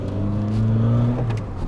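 A VW Polo engine revs up from inside the car, a steady droning tone rising in pitch then easing off, close and loud with no talk.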